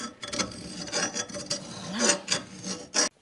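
Close, steady rasping strokes of a file breaking the edges of metal front-axle parts from a Citroën Traction 11, irregular back-and-forth scrapes with brief pauses, no voices.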